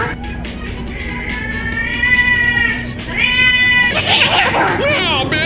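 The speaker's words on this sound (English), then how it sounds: "Cat." Drawn-out cat meows and a yowling caterwaul from a video game, loud and close, with raucous voices talking over them.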